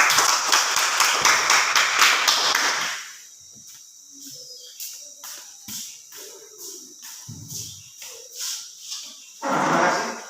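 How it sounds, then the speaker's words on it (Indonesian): A classroom of students claps hands, a dense burst of applause at the start fading to scattered individual claps, then a final short flurry, with no talk. "Oke, berikan tepuk tangan"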